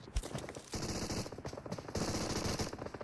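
Rapid bursts of pistol gunfire in a battle royale video game, fast cracking shots in two dense volleys with a short pause between, loud and close.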